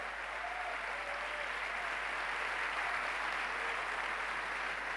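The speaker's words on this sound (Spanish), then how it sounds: "Con este aplauso, bienvenidos." A church congregation at Catedral de la Fe applauds steadily to welcome visiting pastors, with dense, even clapping filling the hall throughout, slightly distant.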